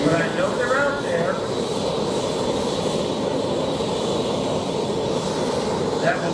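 T-34 Mentor trainer airplanes passing at an airshow, a steady broad engine roar that holds loud and continuous throughout, with faint crowd or announcer voices mixed in beneath it.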